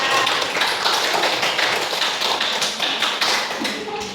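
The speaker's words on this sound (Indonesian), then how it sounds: "Tepuk tangan untuk kelompok 3." A classroom group claps steadily for several seconds, dense overlapping hand claps at an even, fairly loud level with no talking.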